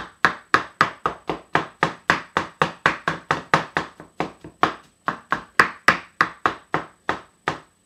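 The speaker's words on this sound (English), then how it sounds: "those have been chopped coarsely" A knife chops vegetables for a spring risotto on a board in a steady rapid rhythm of about thirty close, crisp strikes, with no talk.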